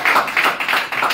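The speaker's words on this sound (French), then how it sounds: "Applaudissez un peu, applaudissez un peu." A church congregation claps together during a Sunday service, a dense, steady wash of hand claps with slight rhythmic surges, fairly loud and close with no voices over it.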